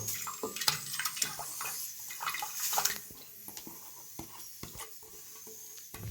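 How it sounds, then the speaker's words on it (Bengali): Water poured from a vessel onto lentils (dal) in a cooking pot, splashing and gurgling in uneven bursts for a few seconds, then thinning to scattered drips and small knocks. "আমি অল্প জল দিয়ে দেবো"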